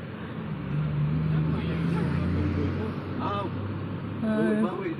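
Slow road traffic on the way into Baguio City, a continuous hum of car engines heard from inside a vehicle, with people talking over it and a few brief tonal honks.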